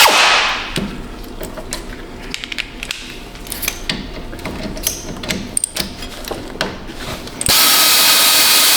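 A power tool works loose the caliper bolts on a rusty car brake, heard as repeated ratcheting rattles and whirring bursts under a constant shop hum, close and loud, ending in a sustained high whine.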